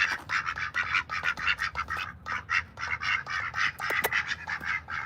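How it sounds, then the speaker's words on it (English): Loud, close ducks quack in a dense, continuous chorus of overlapping calls while waiting to be fed, with no voices among them. "Let's feed these ducks."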